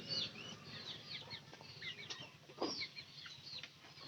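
Two chickens taken to market make faint, scattered clucks and soft squawks, with a brief rustle like flapping wings, amid quiet background noise.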